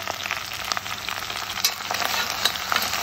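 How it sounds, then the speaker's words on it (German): Ginger and vegetables braise in hot oil, giving a steady, close sizzle with scattered small crackles and pops throughout, and no talking. "5 Minuten einfach in Öl so ein bisschen schmoren"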